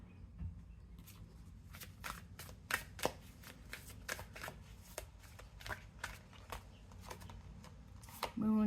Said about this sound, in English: I'm feeling guided to pull one more card.